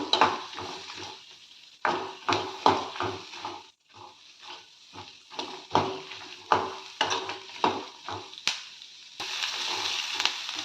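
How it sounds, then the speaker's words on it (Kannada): Onion frying in a pan over a medium flame for a tomato chutney, with soft crackling sizzle broken by repeated scraping stir strokes in an uneven rhythm, close and moderately loud, no talking. "ಇದನ್ನು ಮೀಡಿಯಂ ಫ್ಲೇಮಲ್ಲೇ ಇಟ್ಕೊಂಡು ಫ್ರೈ ಮಾಡ್ಕೊಳ್ಳಿ"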